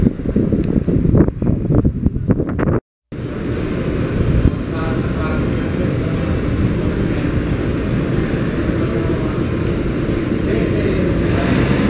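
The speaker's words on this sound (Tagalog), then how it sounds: "Ang lakas pala ng hangin." Strong wind buffets the microphone outdoors, a loud, rough, continuous roar dominating the whole stretch with a brief dropout near the start; faint voices may be buried beneath it.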